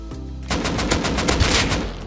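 Rapid automatic gunfire from the survival video game Rust, a loud, close burst of evenly spaced shots sustained for well over a second after a brief pause.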